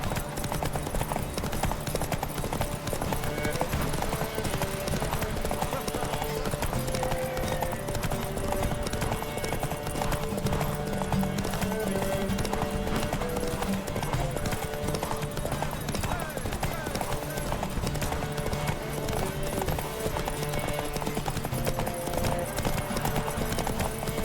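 Horse hooves clip-clopping at a fast gallop during a horse race in the video game The Witcher 3: Wild Hunt, a loud, steady drumming that runs the whole time with a brief whinny and game sounds mixed in.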